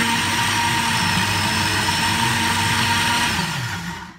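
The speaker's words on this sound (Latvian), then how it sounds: "uzliksim vāku nedaudz samalsim" A lidded blender grinding basil leaves: a loud, steady motor whir held for several seconds before winding down and cutting off at the end, with no talking.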